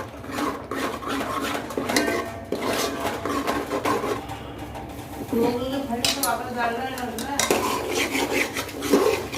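A spoon stirs and roasts drumstick curry masala with turmeric in a pot, scraping and clattering against the metal in a steady, busy rhythm that runs close and fairly loud throughout.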